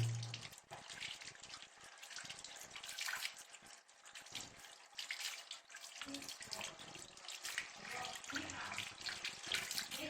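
Tap water runs steadily over a sprayer's trigger handle as it is washed inside and out, a continuous splashing rinse with shifting gurgles close by and no talk.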